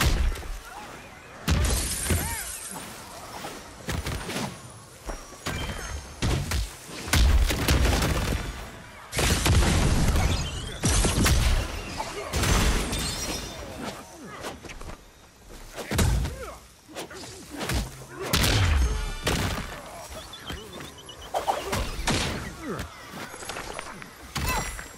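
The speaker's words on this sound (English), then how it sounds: "if they don't want to get clobbered by one of those crates coming down" Heavy crates fall and crash down repeatedly on a game-show obstacle course, booming and splintering impacts with whooshes, while crowd noise and announcer speech run underneath.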